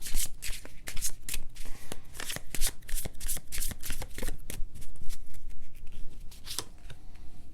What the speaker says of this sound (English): I have to sweep these cards because I don't do oracles in reverse energy.